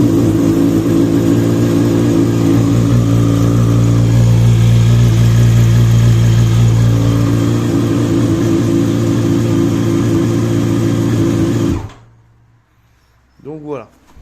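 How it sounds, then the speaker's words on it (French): A Yamaha FZ8 motorcycle engine runs loudly and steadily at idle for most of the stretch, then cuts off abruptly, leaving near silence and a brief faint sound. "je vais faire démarrer la moto"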